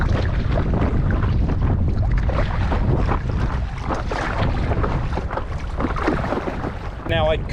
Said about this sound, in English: it's getting windy all of a sudden.